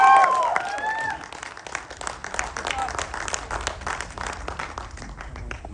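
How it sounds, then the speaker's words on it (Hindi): Loud applause at a film trailer launch for the Hindi action movie Jaat with Sunny Deol and Randeep Hooda, a dense burst of many hands clapping that runs throughout, with a voice briefly heard over it at the start. "एक बार जोरदार तालियां हो जाए, ladies and gentlemen."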